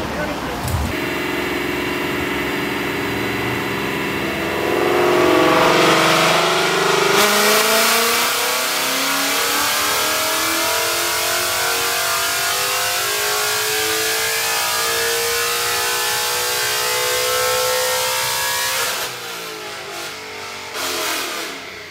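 A 2020 Ford Mustang engine on a dyno revs hard and climbs steadily in pitch for a long pull, loud and close, then drops off near the end.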